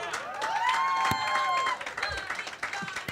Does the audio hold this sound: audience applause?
yes